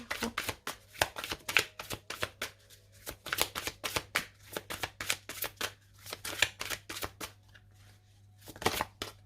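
Tarot cards shuffled by hand in quick, rhythmic riffles and taps, a steady run of crisp papery bursts close to the listener, with a low steady hum underneath and no talking.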